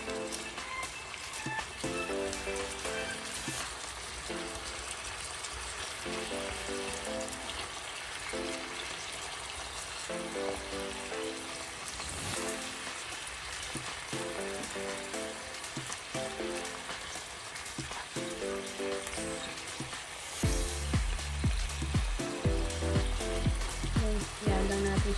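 Chicken sizzling and frying in a pan while being turned in soy sauce and honey, a steady crackling hiss throughout that grows louder and more intense near the end.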